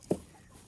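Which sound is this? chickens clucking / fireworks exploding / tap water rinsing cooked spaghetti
chickens clucking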